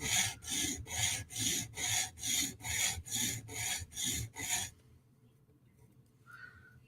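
A Hinderer knife edge is drawn repeatedly across a stone on a TSProf Kadet sharpener, ten even, rasping strokes in a steady rhythm, close and clear, then stopping abruptly into near-silence with a faint clink.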